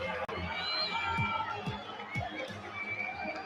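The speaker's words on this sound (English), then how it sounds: "getting a rise out of the Falcons crowd here in Riyadh" A home crowd cheers and shouts at a Call of Duty esports event in a Riyadh arena. The noise is a dense, fairly loud roar with overlapping shouts and occasional sharp peaks.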